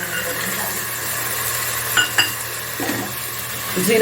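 A few cashews fry in hot oil with cumin in a pan for Maharashtrian masale bhaat, giving a steady close sizzle broken by a couple of metallic clinks as a spoon stirs.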